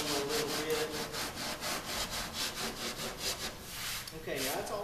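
A sanding block is rubbed by hand over a filled auto body panel in quick, regular back-and-forth strokes, each pass a close, gritty scrape, the rhythm slowing near the end.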